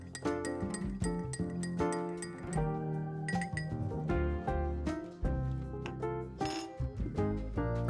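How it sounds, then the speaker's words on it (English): A spoon stirs condensed milk into coffee in a glass, giving a quick run of bright ringing clinks against the glass, close and clear with no talk. "give it a stir, mix in all that delicious"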